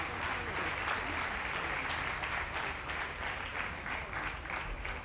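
A conference audience at the Atreju 2021 political event in Italy claps steadily for a guest called to the stage, a dense, even roar of applause lasting throughout with no voices over it.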